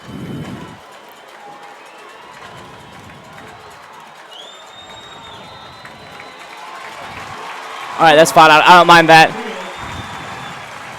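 Huskies fans cheer in a short loud burst at a high school football game, coming in pulses from a distant crowd after a quiet stretch with someone talking over it.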